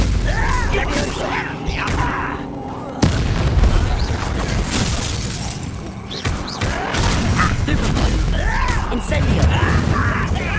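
Spell impacts in the video game Hogwarts Legacy land as heavy booms, thuds and crashes, with one sharp blast near the middle over constant battle noise and voices.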